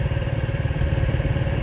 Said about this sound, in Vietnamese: xe máy lên này cho nó tiện ha